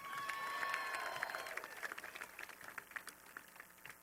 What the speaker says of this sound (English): Let's have another round of applause for Dan Baker.